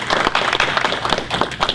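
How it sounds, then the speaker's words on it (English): Conference audience applause, dense rapid hand clapping from a room full of people, close and steady for a brief stretch with no talk over it. "we should give the PUC a very warm round of applause"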